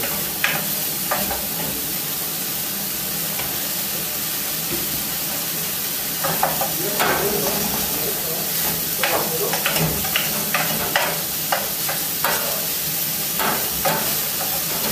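Lard frying in a pan at a winter snowshoe camp at Grand Ventron, with a steady close sizzle, scattered crackles and scraping stirs that grow busier halfway through. There is no speech.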